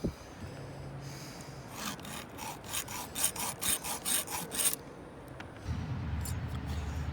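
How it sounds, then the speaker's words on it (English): A hand file from a sharpening kit rasping across the cutters of a chainsaw chain, about ten quick rhythmic strokes in a row, close and fairly loud, with duller scraping before and a low rumble at the end. "the file does actually remove metal"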